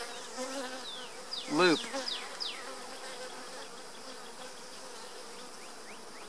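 Honeybees hum steadily around an opened backyard hive fitted with small hive beetle traps, a close, continuous buzz with one louder bee swooping past the microphone and individual wingbeats fading in and out.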